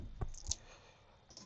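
A computer mouse clicks on a download link, giving two quick, close, faint clicks followed by quiet room tone.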